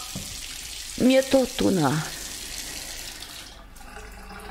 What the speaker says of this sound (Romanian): îmi permiteți să închid apa?